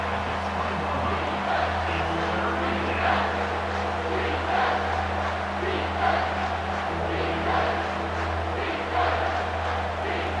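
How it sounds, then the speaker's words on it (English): A college football stadium crowd at an Arizona State vs. LSU playoff game produces a sustained, distant roar of cheering that swells slightly, with no clear talk over it. "This crowd knows when to bring it."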